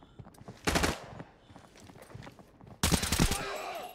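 Bursts of automatic gunfire in the video game Arena Breakout: one short volley, then a louder sustained burst later, with quiet footsteps and faint movement between.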